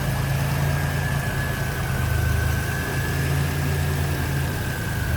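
A 1989 Pontiac Firebird Trans Am TTA Indy Pace Car engine idles at close range, a steady, even low rumble with a faint constant whine above it and no voices.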